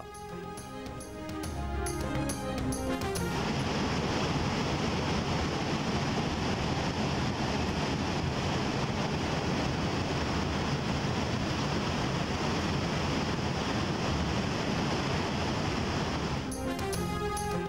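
Strong sea waves surge and crash in a continuous, loud roar that swells after a brief quieter start and then fades slightly near the end, with no one speaking.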